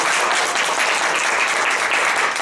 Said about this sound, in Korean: 박수를 크게 줘야 되지 않나요?